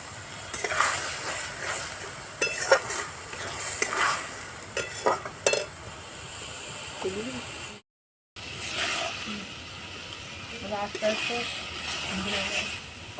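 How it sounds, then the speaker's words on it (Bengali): Ghetkol leaf paste, seasoned with salt and turmeric, fries slowly in a pan over a low flame, giving a soft sizzle with repeated stirring scrapes and a person talking over it. "অল্প আগুনে আস্তে আস্তে করে ভাজা করে নেব"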